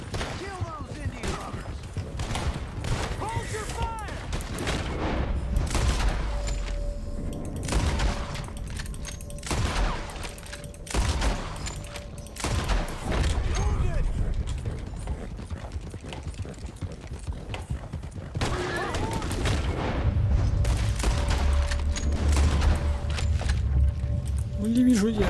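Gunshots ring out in a Red Dead Redemption 2 western shootout, scattered sharp cracks and booms over several seconds, mixed with horse hoofbeats and voices talking throughout.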